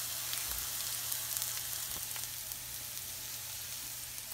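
Onions sizzle steadily in a pan, golden brown and nearly done, a soft continuous crackle close by with faint ticks and no talking.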